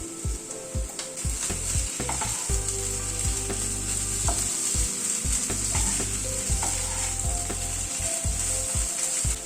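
A spiced potato filling for cheesy bread bites stir-fried in a pan: a constant loud sizzle with repeated scraping, rattling strokes of the spatula close by, and no voices.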